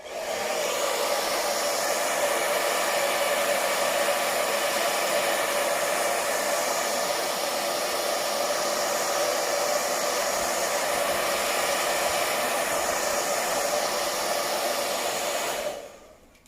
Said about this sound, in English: So you would dry it that way with your blow dryer.